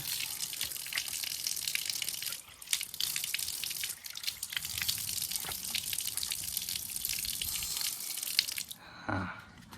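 Running water splashes continuously at close range, with brief dips and a louder gush near the end, like water scooped and splashed onto a face at an outdoor tap.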